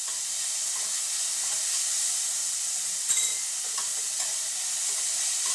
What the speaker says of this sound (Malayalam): ഇത് നന്നായിട്ടൊന്ന് വഴറ്റി വരട്ടെ.